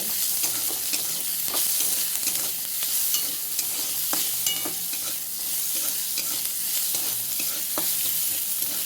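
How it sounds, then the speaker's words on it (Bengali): Onions frying in oil for a home vegetable curry, a loud continuous close sizzle with frequent scraping stirs throughout. "পেঁয়াজ দিলাম পেঁয়াজটাকে লাল লাল করে ভালো করে ভেজে নেব"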